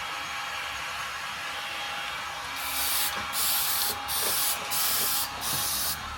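Spray painting on a Nissan 350Z in a workshop, with a steady background hiss broken by several loud, separate bursts of spraying in quick succession toward the end.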